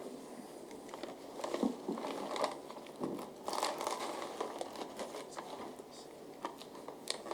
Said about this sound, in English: did you just cut through the seal on that bag?